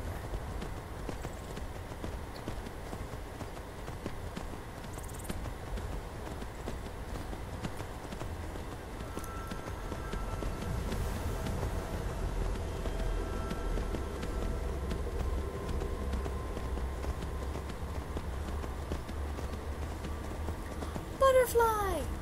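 Horse hooves clip-clop steadily in the video game Skyrim, a quiet, continuous rhythmic trotting heard throughout, with faint game ambience and a brief voice near the end.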